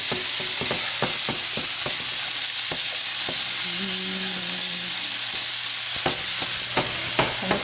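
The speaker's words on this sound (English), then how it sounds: "So I got sausage cooking in there." Sausage frying in a pan for biscuits and gravy sizzles steadily, broken by sharp, repeated scrapes and clicks of stirring that come in quick bursts at the start and again near the end, with a brief low hum in the middle.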